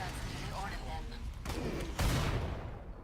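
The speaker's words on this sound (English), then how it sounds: "That was an explosion" Explosion in Killing Floor 2 during the Summer Sideshow event, a dense crackling burst of gunfire-like blasts ending in a heavy boom about two seconds in that then fades.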